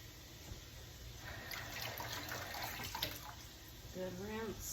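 Tap water runs steadily at a kitchen sink while potatoes are rinsed for homemade potato salad, a soft continuous splashing stream with a faint voice near the end.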